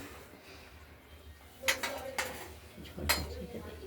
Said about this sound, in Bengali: এবার আমরা নামিয়ে ফেলবো কড়াইটা।